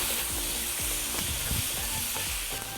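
Bottle gourd sizzling loudly in a hot pan while a ladle stirs it, steady frying hiss with soft scraping knocks of the ladle throughout.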